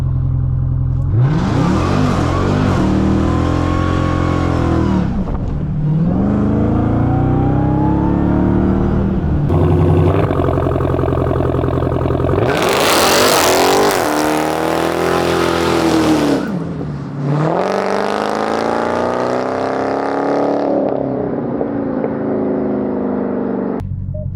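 Dodge Charger Hellcat on cold street tires launching, its engine revving hard in repeated rising and falling surges with wheelspin, loud and close throughout.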